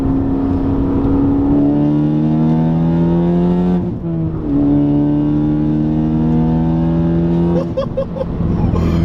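A Stage 3 Ford Focus ST pulls hard under turbo boost from inside the cabin, engine tone climbing steadily through two gears with a short dip at the shift, loud and sustained.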